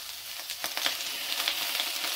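Garlic scapes stir-frying in hot oil in a wok, giving a steady close sizzle with faint scraping and stirring sounds throughout.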